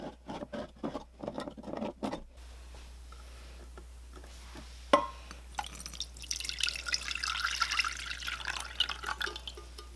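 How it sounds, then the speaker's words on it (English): Water being poured into a pan, a steady splashing rush that builds and grows louder after some earlier knocks and clatter. "now here goes in the 1 can of water"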